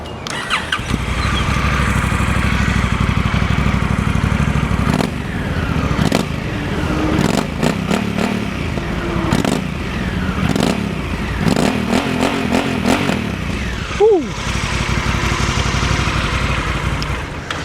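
A Honda African Twin 1100 motorcycle engine idles loudly, then is revved repeatedly in short bursts, rising and falling close up.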